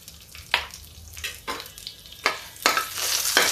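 Green chili and garlic hit hot oil with whole spices on a gas stove, bursts of sizzling and crackling flaring up several times as they are stirred, close and fairly loud.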